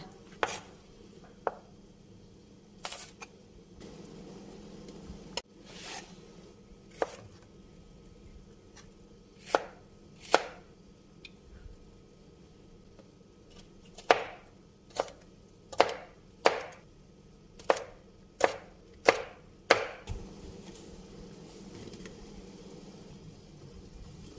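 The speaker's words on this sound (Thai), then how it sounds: "ไอ้พริกพวกนี้นะคะก็ จะหั่นแฉลบหรือว่าจะหั่นเป็นแว่นก็ได้ค่ะ" A knife chops bell peppers and yellow chillies on a board, a string of sharp separate knocks that come in quicker bursts toward the end, close and fairly soft with no talk.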